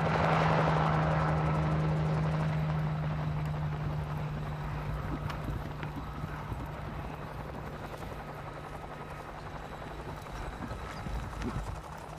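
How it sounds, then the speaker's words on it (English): A helicopter herding wild horses drones steadily overhead, its rotor thrum loud at first and slowly fading a little as it moves away. "they are not as easily frightened by the helicopter"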